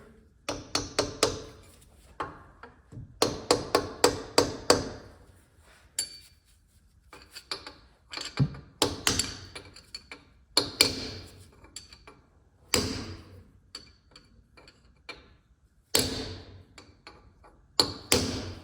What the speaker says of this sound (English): Hammer and punch is all it takes for that